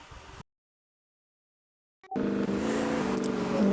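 A car driving in the Roblox video game on a farm map: a steady synthetic engine drone that cuts out to silence, then resumes loudly and holds an even tone.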